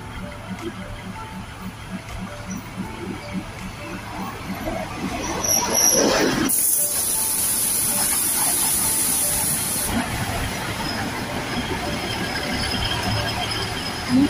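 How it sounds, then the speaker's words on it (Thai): A train pulling into Ban Kalon station in Thailand, heard from on board: rhythmic rumble and clatter of wheels, then a loud sustained hiss of air or brakes, with steady rolling noise continuing afterwards. "รถเข้าสถานีบ้านกะล้นนะคะด้วย"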